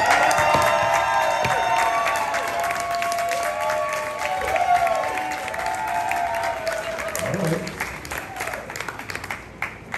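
An audience applauds and cheers for a dancer in a hotel ballroom during a solo jazz dance battle, a dense, steady wash of clapping that holds loud for about ten seconds under a sustained musical tone, easing slightly toward the end.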